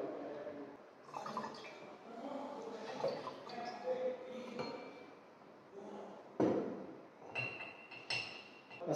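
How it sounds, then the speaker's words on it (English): A glass rod stirs dilute nitric acid solution in a lab, giving faint clinks and taps against the glassware with a little liquid sloshing, under steady talk. "we pour this nitric acid in the solutions, and after that stirring through this glass rod"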